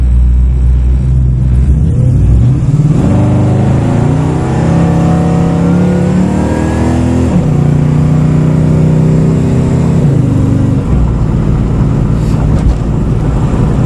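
A 2006 Chevrolet Monte Carlo, converted from front- to rear-wheel drive with a swapped LS V8, accelerates hard from a takeoff, its engine note climbing loudly through rising revs and gear changes, heard close from inside the car.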